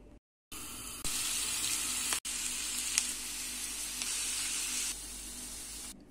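Shredded cabbage sautéing in sunflower oil in a pan, a steady loud hiss and crackle of frying that swells after a brief gap and continues with small pops, easing slightly near the end.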